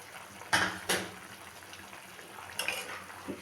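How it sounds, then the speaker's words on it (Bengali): Pieces of katla fish drop into a simmering potato and cauliflower curry broth, giving two quick splashy plops close by, then softer liquid bubbling and a couple of faint later splashes. "এখন আমি মাছটা দিয়ে দেব।"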